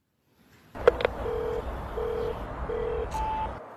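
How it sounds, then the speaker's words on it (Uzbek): A short electronic telephone tone sequence for a switched-off phone: a few beeps at a steady pitch repeated in even pulses, with a brief click at the start and a higher tone near the end, clear and alone. "Telefoni o'chib qoldi shekilli."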